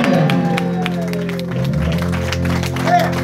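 A concert crowd claps and cheers for the drummer of a live rock band, steady applause under talking and lingering instrument tones.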